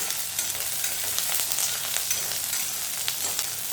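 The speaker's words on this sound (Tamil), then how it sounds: "பாருங்கள், எண்ணெயில் போட்டு வதக்கிடலாங்க" Small onions, garlic and curry leaves sauté in oil for tomato kuzhambu, giving a dense continuous sizzle with faint stirring scrapes, close and unbroken by speech.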